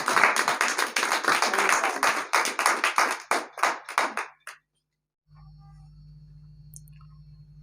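An audience at a literary poetry gathering in Shujabad claps in a dense burst of applause that thins into scattered, slowing claps and stops, followed by silence and a low steady hum.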